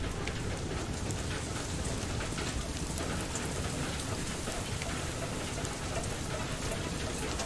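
A rainstorm in the video game FAR: Lone Sails: dense, constant rain pours and patters evenly on surfaces, a loud unbroken hiss with no voices.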